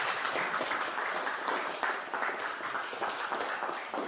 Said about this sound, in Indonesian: kasih dulu tepuk tangan kepada kelompok kami